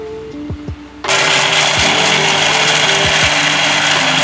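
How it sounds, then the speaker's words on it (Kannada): A home mixer grinder whirs into a loud, steady grinding roar as it blends chutney in the kitchen, starting abruptly after a second of quiet with faint background clatter. "ಸೊ ಇವಾಗ ನಮ್ಮಮ್ಮ ಚಟ್ನಿ ರುಬ್ತಾ ಇದ್ದಾರೆ"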